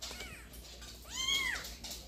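A rescued baby kitten, freed from beneath a car, gives one clear, high rising-and-falling meow over faint background noise.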